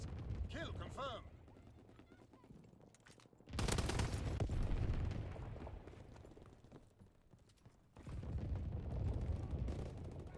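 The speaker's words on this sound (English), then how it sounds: "Flak salvo commenced. Clearing the skies." Flak salvo anti-aircraft fire in Call of Duty WWII, heard as loud dense bursts of booming fire in two main stretches, with a brief lull between, after an opening of talk and announcer-style voice.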